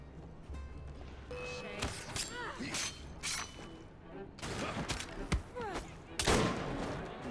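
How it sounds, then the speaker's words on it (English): Bursts of gunfire from the video game Assassin's Creed Syndicate crack out in several sharp volleys, spaced irregularly over a busy background of game noise. "Who is shooting at me, by the way?"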